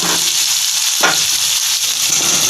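Vegetables fry and get stirred in hot salted oil in a home kitchen pan, giving a loud, steady sizzle with a brief scrape of stirring near the middle.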